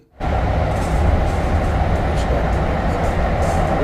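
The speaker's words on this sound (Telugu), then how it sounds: "ఇంకో ట్రైన్ వస్తుంది." A DART light rail train in Dallas rumbles in loud and close, a steady heavy roar that holds without letting up.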